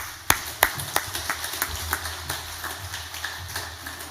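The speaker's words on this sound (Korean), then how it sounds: "격려와 사랑의 박수로서 맞이해 주시기 바랍니다" Scattered hand claps ring out in a church service, a few sharp and close, then thin out into light, uneven applause over a low background hum.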